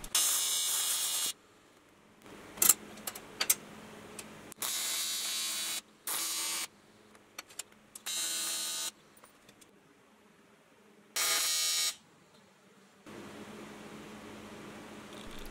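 Welding brackets onto a steel front bike rack: several separate bursts of steady buzzing crackle lasting one to two seconds each, with quiet gaps and small clanks between, close up.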